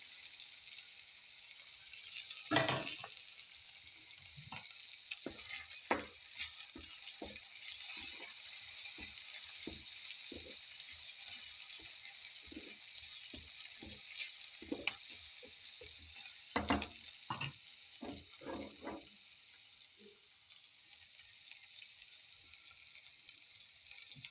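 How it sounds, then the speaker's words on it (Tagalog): Garlic sautéing in a pan for sarciadong bangus (Filipino milkfish dish): a steady hiss of frying oil with scattered, irregular stirring scrapes and clicks, close and moderately loud, no voices. "Just saute for a while. And then to be followed by garlic."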